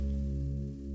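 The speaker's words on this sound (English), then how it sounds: "with a nice bass sound that sounds like this" A low-passed bass synth built in FL Studio holds one deep, sustained note with its high end cut away, leaving a smooth, steady drone with a faint hint of pitch.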